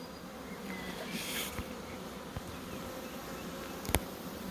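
A swarm of honeybees in April buzzes steadily and densely at close range, a continuous insect drone with a few brief louder passes of individual bees, and no talking.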